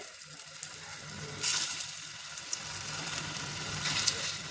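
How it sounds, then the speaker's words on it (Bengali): Masoor dal fritters frying in hot oil in a small karai, a steady close sizzle with crackling bursts as pieces drop in one by one. "এখন এই কড়াইয়ের মধ্যে মসুর ডালের বড়াগুলো আমি ছেড়ে দেবো একটা একটা করে"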